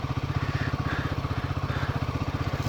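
A Royal Enfield motorcycle idling close by at a roadside stop near Hanle village in Ladakh, a steady, even, low thumping putter that holds throughout, with no talking.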